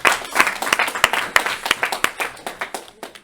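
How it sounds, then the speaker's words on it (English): A smaller group claps at a game jam showcase, with sharp, distinct hand claps forming an irregular burst that gradually thins out and quiets, with no voices over it. "Another round of applause for everyone for making the game."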